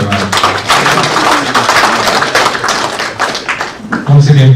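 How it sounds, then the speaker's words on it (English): Audience at a Northern Cross River leaders' conclave applauding the chairman, dense loud clapping throughout with speech over it, ending in a voice. "Another round of applause for our distinguished chairman."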